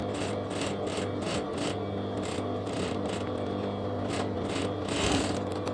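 A sewing machine stitching a lehenga blouse runs in steady bursts of rapid mechanical whirring over a constant motor hum, with short pauses between runs.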